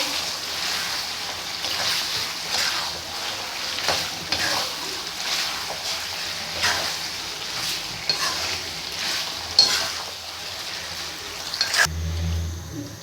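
Beef karahi being stir-fried and roasted in a pan for a Bakra Eid meal makes a steady sizzle broken by rhythmic stirring scrapes about once a second, ending in a sudden low clunk.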